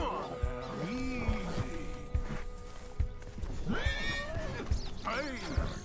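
A horse in the Red Dead Redemption 2 game neighs and whinnies several times with clip-clopping hooves underneath, close and clear, while a person talks over the sounds.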